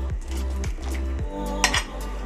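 Potatoes dropped into a cooking pot for a bean stew, a few close clattering knocks and clinks against the pot over a low kitchen hum, with no voices.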